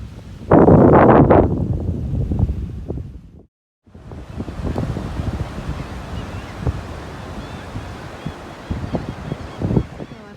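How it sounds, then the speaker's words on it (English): Atlantic Ocean surf on a Florida beach near a navy base, broad rushing wave wash and heavy wind buffeting the microphone, a loud swell early, a brief drop-out, then continued surging roar. "Reached the Atlantic Ocean."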